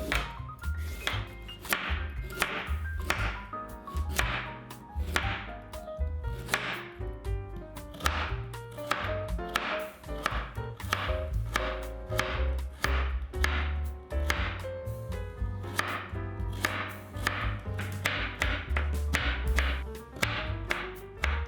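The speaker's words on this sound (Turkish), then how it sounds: "Havucu soyun ve uzun ince dilimler halinde doğrayın." A knife chops rapidly and repeatedly through a carrot into long thin strips on a cutting board, crisp steady taps in quick succession over soft background music.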